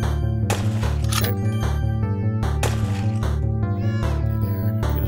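Cats meowing in the video game Guns And Swords And Kitties, repeated loud mewing calls layered over steady game music and sound effects.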